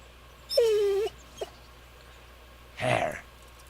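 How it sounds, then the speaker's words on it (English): Mutt the dog in Kingdom Come: Deliverance gives a clear, drawn-out whimper, then a tiny yelp and a second breathier whine, close up with no talking. "Come on, Mutt. There's the good doggy."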